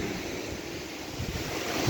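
Heavy surf from large typhoon waves on a Philippine shore roars continuously with strong wind buffeting the microphone, a dense wash of crashing water.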